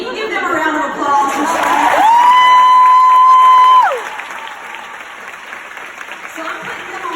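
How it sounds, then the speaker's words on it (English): An audience at a Pure Impact 2019 event breaks into applause mixed with crowd chatter and cheering, while a loud sustained tone rings over it for a couple of seconds before the clapping fades into murmuring. "can you give them a round of applause?"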